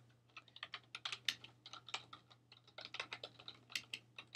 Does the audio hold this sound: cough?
no